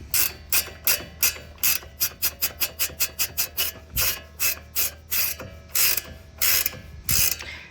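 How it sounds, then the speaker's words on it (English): A hand ratchet with an 18mm socket loosens a front hub nut on a 2015-2022 Chevy truck, making quick repeated clicking strokes in clear bursts, close up with no talk. "I got my 18mm up in here and my ratchet there, and you're just going to counter it till the nut comes free"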